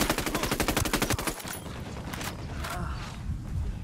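Rapid automatic gunfire in a video game rattles off as a steady fast stream of shots for over a second, then gives way to scattered shots and general battle noise.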